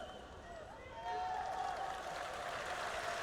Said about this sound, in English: Getting the cheers.